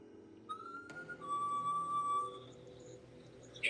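A faint, thin whistle sounds inside the Thomas House: a short tone first, then a longer sustained note lasting about a second, set against a quiet room with low background hum.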